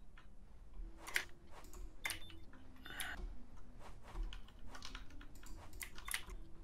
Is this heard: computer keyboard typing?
yes